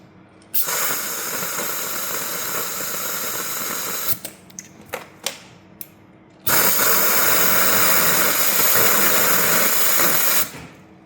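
Air hisses loudly from Maxtrax Indeflate tire deflator valves in two long steady bursts, separated by a few short sharp spurts, with no one talking.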